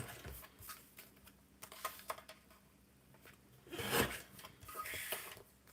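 Paper being trimmed for a scrapbooking craft project gives soft, uneven rasping and cutting strokes, quiet and close, with a louder scrape burst near the middle and no talking.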